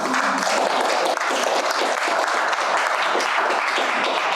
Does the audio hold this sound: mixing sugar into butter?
no